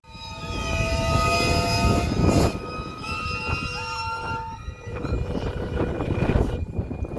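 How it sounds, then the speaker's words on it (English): Steam engine whistles at a vintage steam fair in Corbridge, several loud sustained tonal blasts overlapping at different pitches, near and far, over a busy outdoor rumble. "That's all the steam whistles, by the way."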